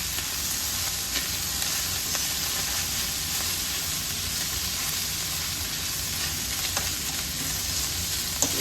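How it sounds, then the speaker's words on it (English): Vegetables and meat sizzling loudly in a pan as they are stirred together for dirty rice, a dense steady frying hiss close by with faint scrapes of a spoon. "we got our vegetables back in the meat. And we're just gonna incorporate them together"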